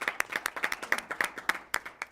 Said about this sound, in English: Let's give an applause for all of those accomplishments